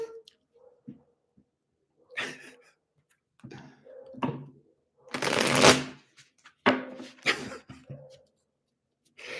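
Soft bursts of tarot cards being shuffled and riffled, in short irregular bouts separated by quiet pauses, close by.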